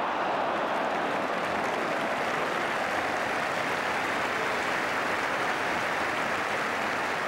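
Steady, dense roar of a large football crowd applauding at White Hart Lane, a continuous broadband wash of clapping and cheering held at an even level throughout with no voices standing out.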